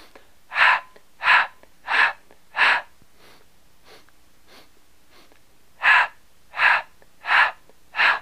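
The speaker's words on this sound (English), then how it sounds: "So you do that 4x4 breathing" Slow, deliberate breaths in a 4x4 breathing exercise, heard as eight close, loud inhales and exhales in an even rhythm, with a quiet gap in the middle and no talking.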